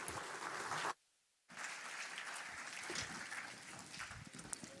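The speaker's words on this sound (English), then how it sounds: "let's give her a big round of applause" An audience applauds a keynote speaker at a conference talk, a steady dense wash of clapping that breaks off briefly into silence, then resumes and carries on evenly to the end.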